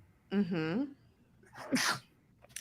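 A person sneezes once, a sharp, close burst following a short murmur from a voice, with talk nearby.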